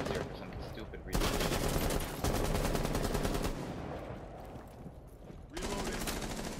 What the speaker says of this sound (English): This window I gotta shoot through, right?